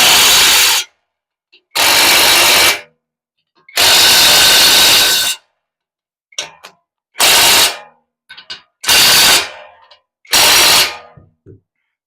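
A power drill drives bolts on a 2026 Chevrolet Silverado 4x4 during a Rough Country 6-inch suspension lift, sounding as loud close-up whirring bursts of about a second each, separated by quiet gaps with small clanks and handling noises.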